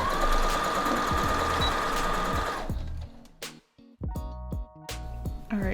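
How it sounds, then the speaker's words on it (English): A sewing machine hums and taps steadily while sewing darts into a thrifted garment, close and loud, then stops, followed by scattered clicks and fabric handling noises. "Let me just sew these darts in."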